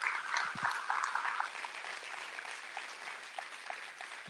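An audience at the 2019 Webfest closing ceremony gives quiet applause, heard distantly as light, thinning claps with a few sharper individual hits and no speech over them.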